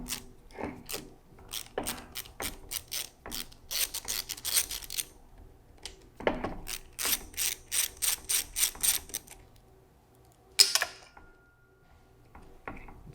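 A ratchet spins off the three 8mm bolts on a Toyota starter solenoid housing cover, in bursts of rapid close clicking separated by brief pauses, with one sharp metallic clank near the end.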